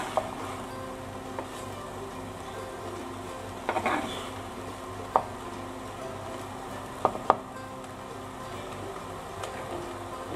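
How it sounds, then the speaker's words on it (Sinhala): Pumpkin leaves and grated coconut being stirred in a pan with a spoon: a low steady sizzle throughout, broken by a few sharp clicks and scrapes of the spoon against the pan, close and soft, with no talking. "මේ වගේ කූරක් තියෙන හැන්දක් අරගෙන හොඳින් මේක කවලම් කරගන්න."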